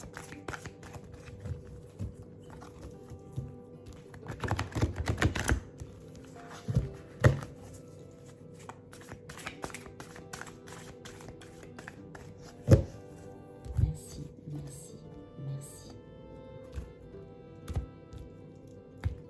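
A tarot deck being cut and shuffled by hand, with soft papery riffles and a series of sharp taps and thumps of cards on a table, close up, intermittent over a quiet background and no talk.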